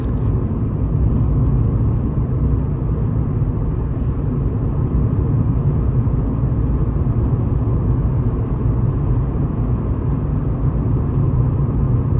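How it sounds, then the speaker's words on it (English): A car on a road during a practical driving test gives a continuous, loud low rumble of engine and road noise, steady throughout with no talking. "I need to accelerate to the new 90 km per hour speed limit."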